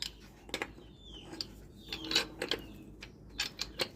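Metal clicks and grinding scrapes of a pipe wrench tightening a union socket on a motor-side pipe, in a few short irregular bursts close by, with no talking.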